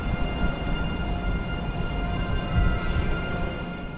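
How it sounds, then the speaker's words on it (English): A RegioJet locomotive-hauled passenger train departing a station in Czechia rumbles steadily nearby with a low droning engine and rolling wheels, a constant mechanical hum as it moves off. "Here's our track-led train departing for its end station"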